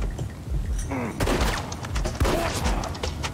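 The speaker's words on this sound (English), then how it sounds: "They're gonna use the Gatling gun." Rapid gunfire from a Gatling gun in the Western video game Desperados 3, dense bursts and booms layered with shouted voices from characters, loud and continuous throughout.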